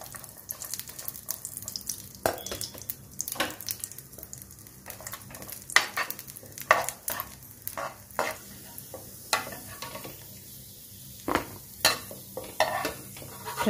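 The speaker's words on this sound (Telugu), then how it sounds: "ఇందులో మనం ఒక 9 10 జీడిపప్పులు వేసి బాగా ఫ్రై చేసుకోవాలి" Cashew nuts frying in two tablespoons of hot ghee for bread halwa, a quiet steady sizzle broken by frequent sharp scraping clicks of a spoon stirring them in the pan, with no talk.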